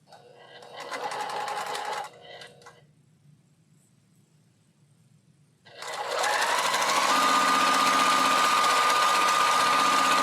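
Domestic sewing machine stitching a quilt block for a pink sew-along, running in short bursts, then pausing, then restarting and running loud and steady with a high whine through the final seconds.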